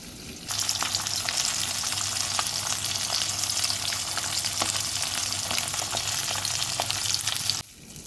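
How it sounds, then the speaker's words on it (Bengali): Fish pieces fry in hot oil with a loud, steady sizzle that holds evenly for several seconds, then cuts off abruptly near the end. "এবার মাছগুলোকে আমি একটু লাল লাল করে ভেজে নেবো"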